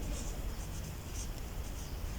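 A pen scratches steadily across paper while a maths problem is being worked out, a soft, continuous close-up scratching with faint stroke pulses and no voices.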